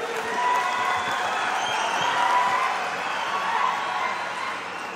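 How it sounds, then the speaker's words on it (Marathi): A crowd at a political event in honour of Dr. Babasaheb Ambedkar applauds, a sustained wash of clapping with faint cheers blended in, steady and moderately loud throughout. "टाळ्या वाजवा जरा"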